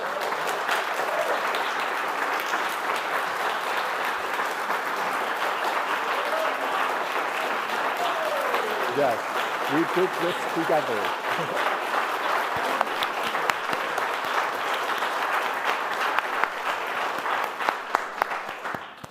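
A church congregation applauding during a sermon, sustained steady clapping from a large crowd with a voice speaking briefly over it.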